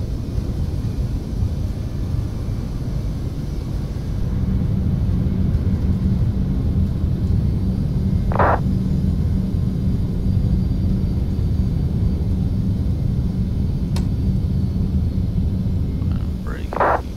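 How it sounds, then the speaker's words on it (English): TFDI 717 airliner rolling out after landing in Flight Simulator X, a steady loud low engine and rolling rumble filling the cabin throughout, with a couple of brief higher tones cutting in near the middle and end. "This probably be a hard landing."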